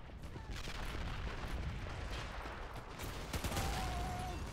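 Artillery fire in the RobZ Realism Mod battle game, a dense, continuous roar of distant gunfire and booming blasts with a faint whistle near the end, loud and sustained throughout.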